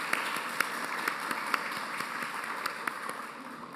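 Audience applause at a panel program honoring first ladies, a steady moderate patter of many hands clapping with a few sharper individual claps, fairly distant in a hall.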